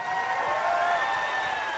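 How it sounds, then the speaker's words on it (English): Steady crowd applause with some cheering mixed in at the 2017 Mr. Olympia bodybuilding contest, sustained and fairly even throughout, heard at a moderate distance. "Please give them a round of applause, please."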